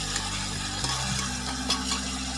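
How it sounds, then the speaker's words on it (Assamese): Meat stirred and fried in a little oil for a lemon chicken dish, a steady sizzle with scraping stir strokes throughout, close and continuous, no talking. "এয়া মাংসখিনি বহাই দি অকণমান তেলৰ লগত লৰাই দিছোঁ"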